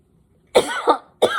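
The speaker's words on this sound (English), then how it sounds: "Got to take a little cough here." One person lets out a short, close cough with two bursts, then begins a third after a brief pause.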